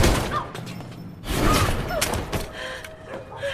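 Gunfire in a movie scene: several sharp bangs and thuds burst out among shifting background effects, with one heavy blast standing out near the middle.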